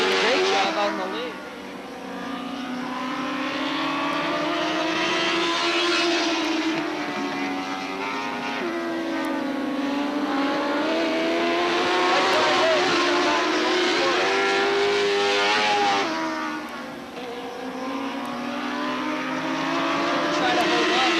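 Dwarf cars race at Star Speedway, engines droning loud and steady with rising and falling pitch as the pack circles close by, while an announcer talks over the track noise throughout.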